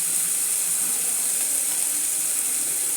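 Steady, even sizzle of potato masala sautéing in a pan, a constant bright hiss with no breaks and no talking.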